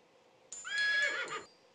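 A frightened wild horse in the Toca Life World video game gives one clean whinny lasting about a second, rising and then trailing off, fairly quiet with no talk over it.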